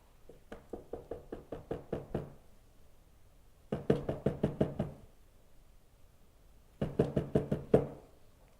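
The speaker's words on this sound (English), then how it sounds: "It's another thing to keep on knocking." Knocking on a door in three separate bursts, each a quick run of about six to eight sharp raps, close and clear with short quiet gaps between bursts and no talking.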